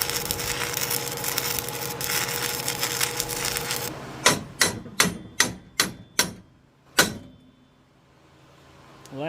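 Hammer blows on a stuck spindle: a steady mechanical drone gives way to seven sharp, loud metallic strikes at an uneven rhythm, each ringing briefly before the quiet.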